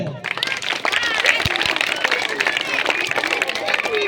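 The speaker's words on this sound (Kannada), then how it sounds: "ಜೋರಾಗಿ ಚಪ್ಪಾಳೆ" School children at a New Year sweets-distribution event clap loudly, a dense patter of many hands with crowd babble and voices rising over it the whole time.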